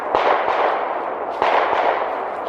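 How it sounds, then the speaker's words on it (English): A neighbour's gun fired in Georgia woods near a pond dam: two sharp reports about a second and a quarter apart, each with a short decaying tail, moderately distant and clear of any talk. "He shoots a gun every day."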